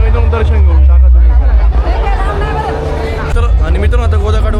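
Dense crowd hubbub at Godaghat on the Godavari riverbank in Nashik during the Mahashivratri festival, a loud continuous babble of many voices close by with a person talking over it.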